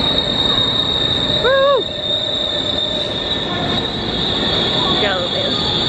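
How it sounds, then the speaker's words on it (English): A train, a class 331 unit, arriving at a station in North West England rumbles steadily close by with a high metallic squeal of wheels, a short shout briefly rising above the rail noise. "Train to Buckshaw Parkway coming."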